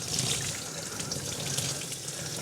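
Hot water from a tap runs steadily over a cast iron pan, giving a continuous, moderately soft splashing hiss.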